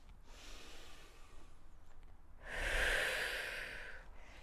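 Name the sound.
deep breathing out during Pilates exercise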